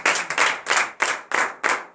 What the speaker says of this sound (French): Veuillez donner de vives acclamations à l'Éternel de ce matin.